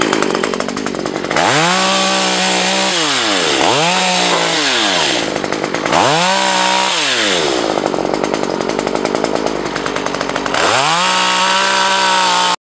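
A chainsaw cutting branches revs up and down repeatedly in loud bursts, close by, with brief idling gaps between cuts, while clearing access to a large Asian hornet nest.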